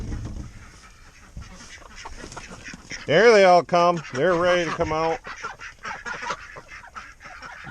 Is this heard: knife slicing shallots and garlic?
no